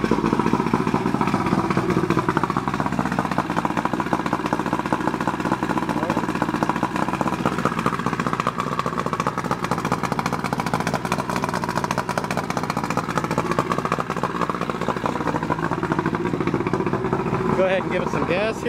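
A Johnson 65 outboard motor on a 1967 Starcraft boat runs steadily after starting, a loud, close, rough mid-pitched drone with clattering texture that holds throughout, with a person talking over it.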